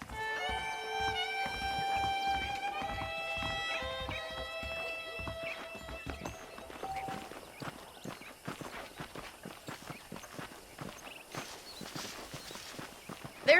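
Horse hooves clip-clop on the ground in the video game Red Dead Redemption, a steady walking rhythm of close, moderately loud hoofbeats under tonal game music that fades after the first half.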